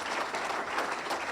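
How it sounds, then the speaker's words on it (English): An audience at an award ceremony claps in steady, dense applause throughout, with a crowd of hands filling the room evenly. "I'd like to give him a round of applause."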